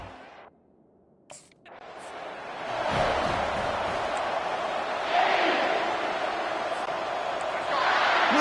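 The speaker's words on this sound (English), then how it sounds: "listen to the crowd energy here in the early going" A stadium crowd roars in the College Football 25 video game, starting quiet and then rising into a steady, dense wall of cheering that stays loud to the end, with a surge near the finish.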